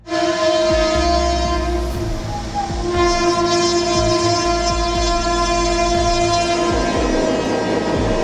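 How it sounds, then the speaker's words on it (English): A train rolls through a flooded stretch of track, its horn blaring loud and sustained while wheels clatter and water churns below, the horn easing off near the end. "a tsunami caused by a train passing through a flooded area"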